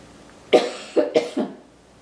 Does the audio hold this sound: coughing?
yes